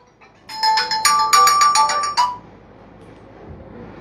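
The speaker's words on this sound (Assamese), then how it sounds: "কোনেনো ফোন কৰে?" An incoming-call ringtone on a phone plays a bright, tinkling chime pattern for about two seconds and then stops, leaving a quiet room.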